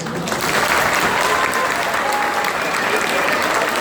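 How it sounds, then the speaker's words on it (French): An audience at a student tutoring event applauds continuously, a dense, steady wash of clapping from a crowd that holds at an even level throughout. "vous pouvez commencer par vous applaudir"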